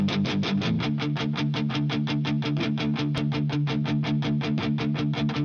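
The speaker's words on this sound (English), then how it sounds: "I just used this preset here, which is the Studio Slap Wide. I reduced the echo time and adjusted the mix to taste." A full music mix processed with a wide stereo slapback echo preset, with a steady rhythmic pulse of repeating hits over sustained low tones, loud and continuous with no talking.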